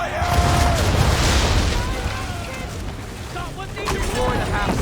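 Swivel guns booming during a naval battle in Assassin's Creed III, with loud blasts and rumbling cannon fire mixed with shouted voices over sea and ship noise.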